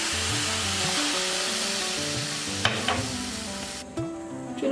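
Water poured over sugar in a hot pan on a lit stove for mango murabba syrup, a continuous close sizzle and bubbling with a couple of brief knocks of a utensil, no voices.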